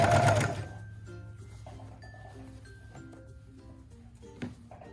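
A sewing machine stitches a mini dress, a quick burst of loud mechanical whirring at the start that settles into quieter clicks and taps, close by.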